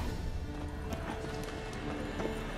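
Horse hooves clip-clop at a steady walking rhythm in the video game The Witcher 3, close and clear over a continuous ambient game background, with faint clatter mixed in.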